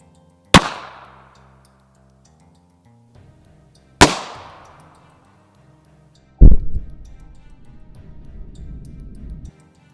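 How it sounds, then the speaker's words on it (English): Two sharp, loud 9mm Makarov pistol shots a few seconds apart, each ringing out and decaying outdoors, followed by a third heavy impact with a lingering rumbling tail. "So I'm gonna try to shoot to the left of the block with the Makarov."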